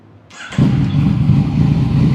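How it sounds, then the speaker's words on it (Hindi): A 2014 Yamaha FZ-09 inline-three motorcycle in pristine condition fires up after a brief crank of the starter, then settles into a loud, steady, close-up idle rumble. "तो चलिए बिस्मिल्लाह करते हैं, इसे स्टार्ट करके देखते हैं।"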